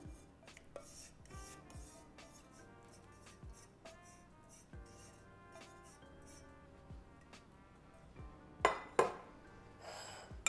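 Wet ingredients being stirred into dry ones for Arnott's Kingston biscuits, a gluten-free option, with soft scraping and rubbing of a spoon against a bowl, repeated faint strokes under steady background music and a couple of louder clinks near the end.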